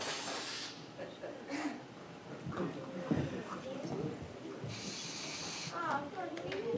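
Two short hissing bursts of an aerosol spray can, one at the start and one a few seconds later, with people talking quietly in between.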